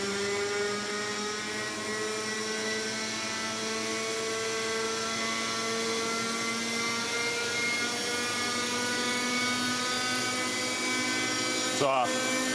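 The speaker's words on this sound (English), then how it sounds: "soon returns with his own model chopper" A model helicopter hovers with a steady, high-pitched whining buzz and a continuous rotor drone that holds constant throughout, ending in a brief sharp burst near the end.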